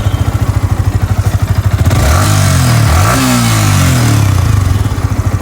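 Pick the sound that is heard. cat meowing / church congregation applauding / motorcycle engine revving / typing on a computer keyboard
motorcycle engine revving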